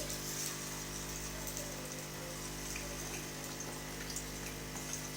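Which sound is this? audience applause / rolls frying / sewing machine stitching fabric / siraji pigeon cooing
rolls frying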